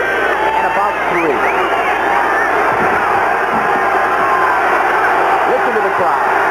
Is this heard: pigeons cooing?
no